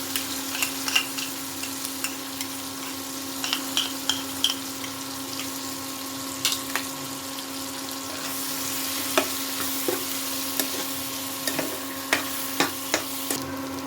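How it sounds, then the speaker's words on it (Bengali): Ground masala paste frying in a kadhai for kadhai paneer, a steady sizzle under a constant hum, with scattered clinks and scrapes of stirring up close. "এবার এর মধ্যে পিষে রাখা মশলাটা দিয়ে দেব।"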